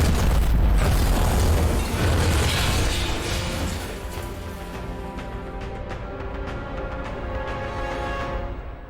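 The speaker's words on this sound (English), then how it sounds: "Wait, grenade?" A grenade blows up in Half-Life: Alyx with a loud, deep boom, then a long rumbling roar that slowly fades over several seconds, heard alone.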